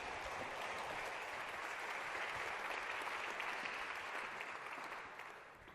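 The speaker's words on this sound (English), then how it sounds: "Ladies and gentlemen, please give a round of applause." Sustained audience applause at a policy event, a dense steady wash of many hands clapping that stays loud throughout and tapers slightly near the end.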